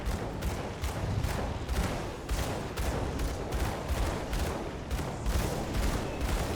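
A gunslinger character firing rapidly at a big golem in an action role-playing game, a dense continuous barrage of gunshots and impact thuds in a fast regular rhythm, loud and sustained.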